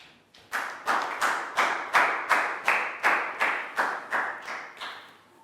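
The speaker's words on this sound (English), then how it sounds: "Big round of applause for Nadia, guys." Children in a primary school classroom clap in unison, about a dozen sharp, evenly spaced claps in a steady rhythm, close and loud.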